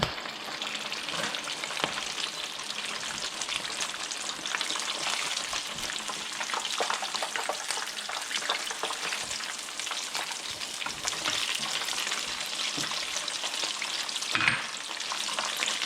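Crispy pata, a pork leg, deep frying in oil gives a dense, loud, steady sizzle and crackle, close up and with no talk, with a brief stir or flip near the end.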